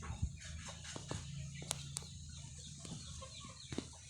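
A chicken clucks in short, scattered bursts, fairly quiet and nearby, over faint farmyard background noise.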